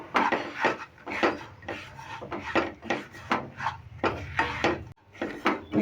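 A utensil stirs semolina frying in ghee and sugar, scraping hard against the pan in rhythmic passes. The rasping strokes are close and loud, with a steady low sizzle underneath.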